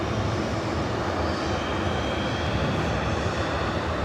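An airliner takes off from runway 24 right at LAX, its engines a steady, loud, broadband roar that holds unbroken from start to finish, with no talk over it.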